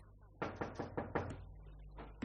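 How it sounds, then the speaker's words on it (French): Knocking on a door in a radio drama, a run of about six quiet, evenly spaced raps followed by a pause and one more knock. "Un matin, on frappa à la porte de Geneviève."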